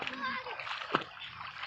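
Children leaping into water in hot summer sun, with a sharp splash near the middle amid a steady wash of sloshing water and kids' chatter.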